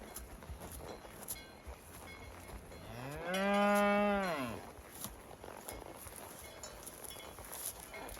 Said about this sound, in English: More cows back here.